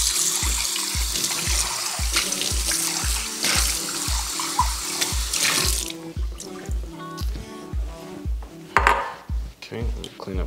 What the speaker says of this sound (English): I'm gonna use this bowl once I rinse it out.